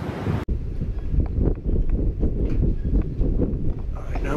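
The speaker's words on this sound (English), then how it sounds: "I do apologize, it's gonna be a little bit windy." Wind buffets a microphone outdoors at an abandoned farm, a steady loud rumble with gusty fluctuations after a brief sharp cutoff at the start, and faint rustling underneath.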